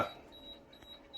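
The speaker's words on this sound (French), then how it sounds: "voilà ce que ça donne quand elle demande de l'eau" Laurastar S Pure ironing system giving a short, steady electronic beep as it signals its water tank needs refilling, faint and close in a quiet room.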